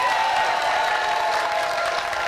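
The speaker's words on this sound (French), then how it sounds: "On s'en va tout de suite accueillir avec beaucoup d'applaudissements Sandrine Konaté." A studio audience claps steadily to welcome a guest onto a French talk show, a dense continuous wash of applause with a few faint cheers, loud and close, with no talking over it.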